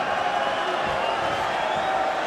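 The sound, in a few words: Irish crowd cheering at the Garden during UFC fight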